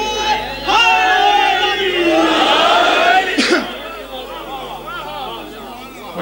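An audience at a religious majlis chants a slogan together, a loud mass of voices rising and surging for several seconds before dying down into scattered crowd noise.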